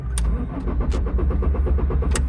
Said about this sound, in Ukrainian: машина заглохла і не заводиться